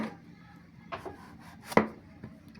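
A knife cuts through a vegetable in a few sparse, soft taps and scrapes, the sharpest stroke near the end, close by and quiet with no talking.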